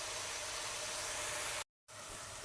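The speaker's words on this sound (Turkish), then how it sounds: "Isırganlarım soğanla birlikte güzelce kavruldu" Stinging nettles and onion sautéing in a pan give a steady, close, broadband sizzling hiss that cuts out abruptly for a moment and then resumes.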